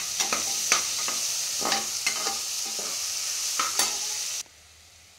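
Onions with turmeric fry in oil, a steady bright hiss with repeated spatula scrapes and taps, then cutting off abruptly to near quiet in the last second.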